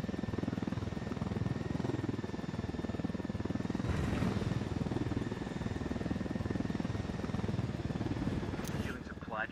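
A continuous helicopter rotor drone in the video game Tom Clancy's Ghost Recon Wildlands, with a steady whirring chop filling the whole stretch and a brief higher chirp near the end.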